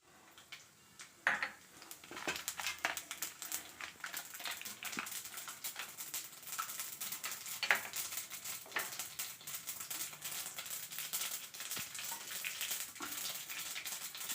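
Mustard seeds, urad dal and cumin sizzle and crackle in hot oil in a pan, with steady frying hiss and scattered sharp pops and spatters, close and moderately loud, without talking.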